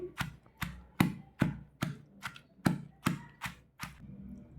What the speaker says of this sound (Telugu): ముందుగా మనం చక్కగా మగ్గించి పెట్టుకున్న ఇవన్నీ అయితే రోట్లో వేసేసుకొని కచ్చా పచ్చిగా దంచేసుకుందామండి